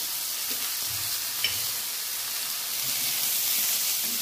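Vermicelli masala with salt and turmeric sautéing in a pan, a soft, even sizzle and hiss running throughout with occasional faint stirring scrapes, moderately quiet and without speech.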